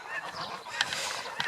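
Farm geese, one gander and three geese, honk in a cluster of overlapping nasal calls, with sharper honks standing out, moderately close on a smallholding.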